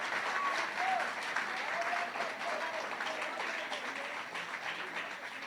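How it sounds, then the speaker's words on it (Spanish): Applause from a church congregation during a Sunday sermon, a steady dense wash of many hands clapping at a moderate distance, with faint tonal music threads running beneath. "dale ese aplauso a Dios, que se oiga de verdad"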